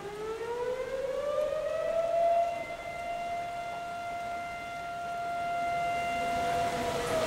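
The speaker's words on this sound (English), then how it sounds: "Right after the fire sirens sounded" A wailing siren rises and holds a long, steady tone in the distance, slowly swelling and fading with no voices present.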